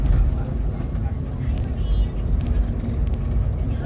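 Vehicles pass on a road between Palompon and San Juanico, a loud continuous low rumble of engines and tyres close by, with people talking over it.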